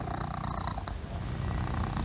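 A cat purrs while being scratched under the chin, a steady close rumbling purr that runs without a break and without talk.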